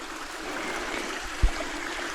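Water rushes steadily through a channel that regulates the water level in the Philippines, a constant close-up broadband flow with one brief low thump midway and no voices.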